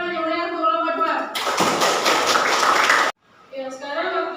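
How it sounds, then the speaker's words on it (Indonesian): A classroom of students breaks into a loud burst of clapping for a student group, lasting about two seconds and cutting off abruptly, with a teacher speaking just before and after. "Beri tepuk tangan yang meriah untuk kelompok"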